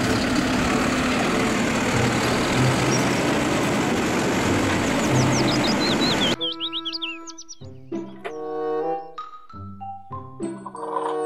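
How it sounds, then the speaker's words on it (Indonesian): Toy garbage truck producing a loud, noisy rumbling engine sound with a few chirpy tones for about six seconds, then short separate bursts of bright electronic toy melody. "Mobil truk sampah."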